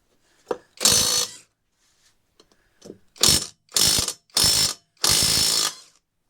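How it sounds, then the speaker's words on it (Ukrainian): A powerful impact wrench loosens car wheel nuts during a Caddy repair, firing five sharp, loud rattling hammering bursts of about half a second each, separated by brief silent gaps. "за допомогою ось такого ось гайковерта дуже потужного, казали дуже потужний. Попробуємо відкрутити колеса."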